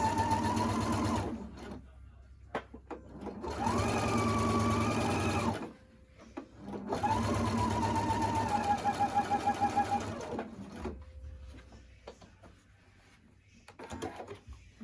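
A sewing machine stitches closely along a line through layered fabric for a rectangular mask with a filter pocket, running in two long steady bursts with pauses and handling noise between them.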